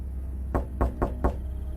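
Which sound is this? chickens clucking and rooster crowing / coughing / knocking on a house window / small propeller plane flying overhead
knocking on a house window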